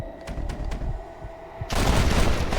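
Gunfire in the video game Red Dead Redemption, with a few faint muffled pops followed by a sudden loud burst of blasts and rumbling, no talking.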